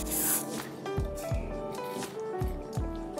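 A short hiss of hairspray during a beginner's self-installation of a lace frontal wig, a single burst at the start followed by quiet rubbing and handling sounds.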